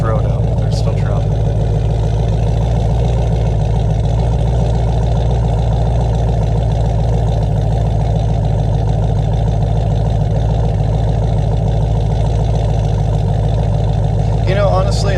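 A cammed, pulley-swapped supercharged Chevrolet Camaro ZL1 V8 idling on a rented road, a loud, steady, lopey rumble with deep low-end throb, sustained throughout with only slight variation.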